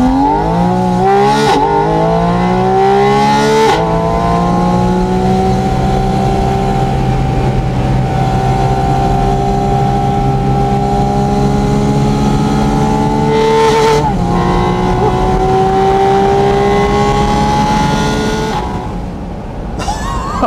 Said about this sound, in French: il passe l'échappement en mode sport